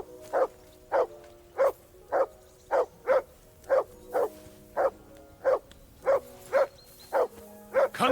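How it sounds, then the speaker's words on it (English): Dog barking in the video game Kingdom Come Deliverance 2: a steady run of about fourteen evenly spaced barks, close and clear over quiet background, with no talking. "That barking was a pain in the ass."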